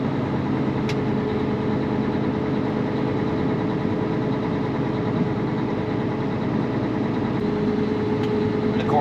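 A John Deere 9570RX articulating tractor engine rumbles steadily as it is driven into a garage, a deep continuous drone with faint metallic ticks.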